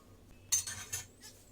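Flour, yeast, sugar and salt are stirred together in a bowl for Egyptian country breakfast bread, giving a few faint, light clinks of a utensil against the bowl in an otherwise quiet room.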